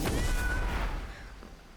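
A cat's meow rises once at close range in the video game Blacktail, a single short call that fades into a low rumble of game ambience.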